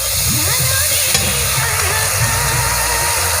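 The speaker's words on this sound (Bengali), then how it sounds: "দেখো মা মশলাটাকে কষিয়ে নিচ্ছে।" Spice paste for a hilsa and water lily curry frying in a pan after a splash of water, giving a loud, constant close sizzle with faint stirring underneath.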